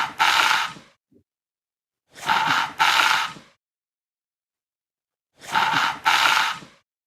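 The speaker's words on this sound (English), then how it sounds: "straw sucking, slurping" Short airy slurping noises repeat three times with silent gaps, the later bursts split into two quick sucking pulls like drawing through a straw.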